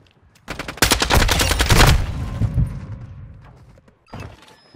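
A loud, fast burst of automatic gunfire in the shooter Modern Warfare 2 lasts about a second, then trails off into softer thuds and a brief later shot.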